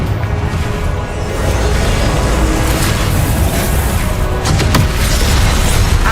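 A Confringo blasting spell goes off in the Hogwarts Legacy video game, producing a loud, deep booming blast with a rolling rumble that fills the whole stretch, with sharper crackling bursts near the end.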